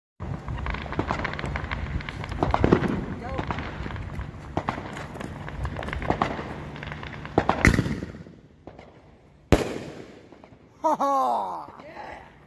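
A sharp Fourth of July firework cannon blast rings out after a stretch of crackling and rustling, followed by a second bang and then whistling, fizzing bursts.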